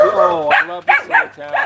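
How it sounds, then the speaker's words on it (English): Several small dogs bark and yip in quick bursts near a town street while someone speaks over them. "Sorry about the dogs."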